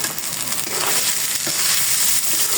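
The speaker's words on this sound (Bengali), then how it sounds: "এখন শুধু ভেজে নেব" Salted food fries in hot oil, a loud, dense, continuous sizzle heard up close with faint crackles and stirring, no voices.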